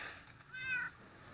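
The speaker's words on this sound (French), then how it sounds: "Et vous avez vu, ils miaulent." A single faint, short cat meow from the Minecraft video game, soft and slightly distant against quiet background noise.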